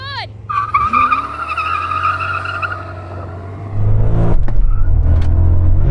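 BMW M5 cars launch in a drag race, engines revving loudly as tires squeal and skid, then a louder roar of acceleration takes over near the end.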